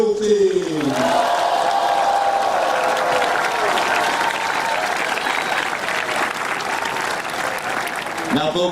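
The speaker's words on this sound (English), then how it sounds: "Let's take another big applause for the U.S. Army Drill Team." Sustained audience applause for the U.S. Army Drill Team at the Fort Lee Run for the Fallen, a dense, steady roar of clapping that fills the whole stretch at close range.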